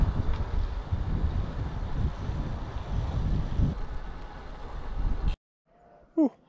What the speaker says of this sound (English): It's just awful, awful wind.